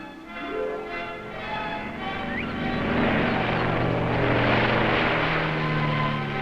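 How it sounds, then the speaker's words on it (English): A propeller aircraft coming in to land drones steadily, growing louder and nearer as it approaches, with a low continuous engine hum throughout. "Soon we got word that the airplane was coming in for a landing."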